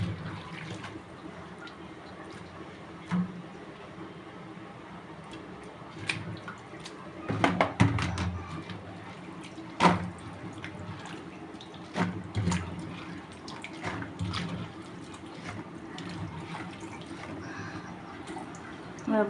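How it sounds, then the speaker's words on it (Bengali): Water lilies are washed by hand in water, with a continuous low splashing wash broken by louder sloshes and drips at irregular intervals, fairly close. "এই যে এবার ভালোভাবে শাপলাগুলোকে ধুয়ে নেব।"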